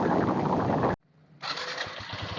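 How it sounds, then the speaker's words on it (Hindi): A motorcycle engine runs loud and rumbling, cuts out abruptly for a moment, then resumes at a slightly lower, steady idle. "बाइक की कितनी आवाज़ एक ईयरफोन के थ्रू आप तक आ रही है"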